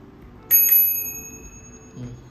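A bicycle bell rings twice in quick succession, bright and close, its metallic tone lingering and fading before a soft knock.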